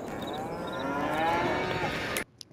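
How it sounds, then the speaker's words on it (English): Cows in a large dairy barn in the farming game Farming Simulator 22 give a long, drawn-out moo that is close and clear, then cuts off abruptly into near silence. "We'll go check on the cows."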